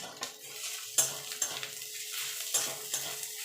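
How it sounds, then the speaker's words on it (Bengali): Grated ginger and garlic stirred into frying onions in a pan, with a steady sizzle and several sharp scraping knocks of a spoon against the pan, no voices. "দিয়ে মিনিট দুয়েক একটু নাড়াচাড়া করে নেবো যতক্ষণ আদা রসুন থেকে কাঁচা গন্ধটা চলে না যাওয়া পর্যন্ত।"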